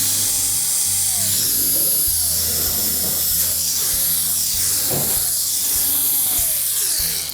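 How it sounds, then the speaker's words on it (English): A power driver backs 1/4-inch hex head screws out of a GE range, producing a repeated whirring drill whine that rises and falls over steady loud hiss, close up and alone. "we'll begin by removing the one on the bottom. They're typically a 1/4-inch hex head screw."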